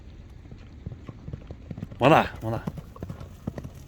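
A horse's hooves clip-clop in a steady, evenly spaced patter on hard ground, close by, while someone speaks briefly partway through.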